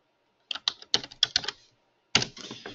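Fast typing on a computer keyboard: a quick run of distinct clacking keystrokes, a short pause, then another brief burst of keys, close and clear with no talking.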